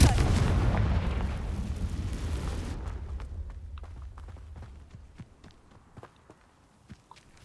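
A Confringo fire spell blasts in Hogwarts Legacy, a loud booming explosion with a long rumbling decay, followed by scattered light footsteps and crackles as the noise dies away.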